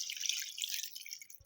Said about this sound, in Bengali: সিদ্ধের জন্য পানি দিয়ে দেবো।